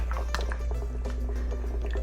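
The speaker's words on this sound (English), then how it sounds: "you get the condensed milk. I do a lot." Condensed milk pouring into a Milo drink, soft wet dripping and glugging close up over a steady low hum, no talking.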